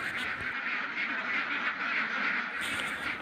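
A flock of laying ducks in a farm pen quacks nonstop, many overlapping nasal calls close by forming a busy, continuous chatter.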